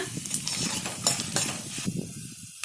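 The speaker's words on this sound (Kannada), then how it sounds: "ಕಡಲೆ ಬೀಜ ಸ್ವಲ್ಪ ಫ್ರೈ ಆದ ನಂತರ ಕಡಲೆ ಬೇಳೆಯನ್ನು ಹಾಕ್ಕೊಳ್ಳೋಣ ಫ್ರೈ ಮಾಡ್ಕೊಳ್ಳೋಣ" Peanuts and chana dal frying in a pan while being stirred, with a soft continuous sizzle broken by scraping and clinking from the spoon, and a short quieter pause near the end.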